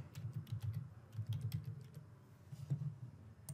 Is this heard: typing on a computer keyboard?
yes